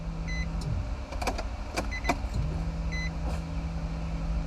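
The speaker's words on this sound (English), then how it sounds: "the pump don't sound like it's happy" A pump whirs steadily inside an LS-swapped Nissan 350Z, a low constant hum that shifts slightly in pitch, with faint clicks and ticks over the top.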